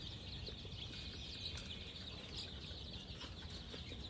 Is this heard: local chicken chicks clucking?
yes